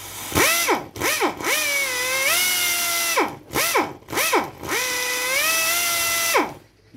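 A Makita drill with a trigger speed control whirs in repeated bursts, revving up and winding down, then runs again after being switched into reverse. The bursts are loud, close and steady, with no talking over them.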